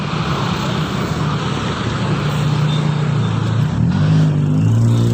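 Motorcycle engines rumble steadily from passing road traffic, one engine note rising and growing louder toward the end as a motorcycle nears.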